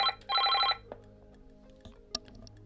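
A telephone line ringing on a Tempo TM900 butt set: a short electronic trill, then a longer warbling burst, followed by quiet line hiss and faint clicks.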